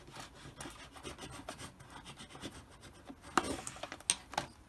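A squeegee rubs contact paper transfer tape down onto a jar in quiet, uneven rasping strokes that grow louder with a few sharper scrapes near the end.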